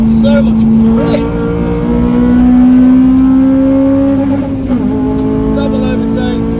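A race car accelerates hard in third gear around Snetterton circuit, its engine note rising steadily, heard loud and close from the cockpit, with a brief lift and shift near the end and someone talking over it.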